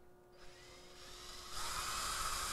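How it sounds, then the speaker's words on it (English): A power drill bores a hole into the corner of a countertop, a steady high whine that rises and grows louder partway through as the bit bites in, heard alone. "we want to drill a hole in the corner here"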